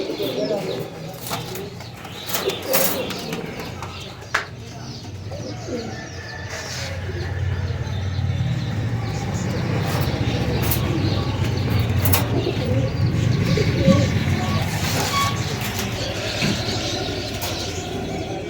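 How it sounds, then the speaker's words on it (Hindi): Pigeons coo and flap their wings at a busy Karachi bird market, a steady murmur of birds close by with crowd noise and talk running throughout. "ये तो कुछ छाटे हुए कबूतर हैं घर के जो इधर लाए हैं"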